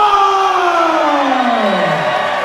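A wrestling crowd at the London Music Hall cheers and roars in a loud, sustained burst, with whoops and shouts rising over a dense wash of noise.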